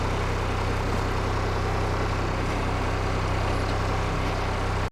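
A truck engine runs in low gear on a ghat road near Aizawl with a steady, loud, continuous drone and a deep rumble, close by and with no break throughout.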